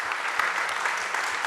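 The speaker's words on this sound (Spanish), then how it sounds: "un aplauso para los dos disertantes" An audience at a history lecture series on Argentina's 1946 election applauds the two speakers, a steady patter of many hands clapping at moderate distance.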